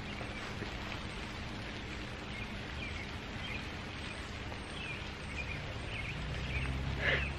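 Steady rain falls outdoors during yard work, a faint, even wash of patter throughout with no voices.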